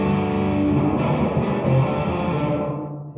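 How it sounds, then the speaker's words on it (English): A muted electric guitar note slides downward, drenched in reverb, ringing and slowly fading out over a few seconds. "on the upstroke I kind of do like a muted slide down the neck"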